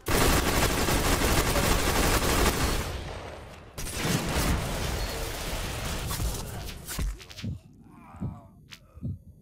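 Shotgun and other gunfire in an online assault-mode shooter game, coming as dense loud rapid blasts at first, then sparser separate shots with gaps of quiet toward the end.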